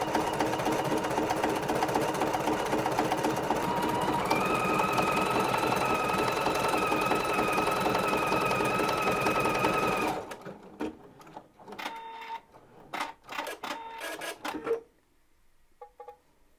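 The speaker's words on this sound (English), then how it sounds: "Let's stitch this bauble out and see what happens." Computerized embroidery machine stitching out a Christmas bauble design with metallic thread, a steady loud rapid needle hum for about ten seconds, then stopping into scattered quieter clicks and handling noises.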